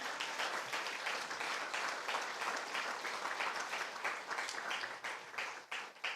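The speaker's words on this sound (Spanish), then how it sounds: "Denle un aplauso al Señor." A church congregation applauds after a sermon, with dense, sustained clapping from many hands, steady and fairly distant, thinning slightly toward the end.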